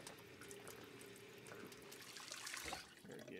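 A water tap runs steadily into a sink as a character drinks in the Project Zomboid video game, a faint, quiet, continuous flow with no talking.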